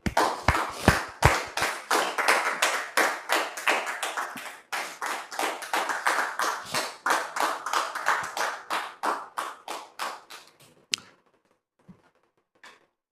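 A studio audience at a French-language talk show greets an arriving guest with sustained, loud applause that fades out near the end, leaving a few scattered claps.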